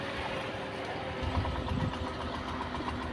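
A Honda Activa scooter running low on fuel putters on choke with a faint, steady idle and a slight rise in the middle, heard over background noise.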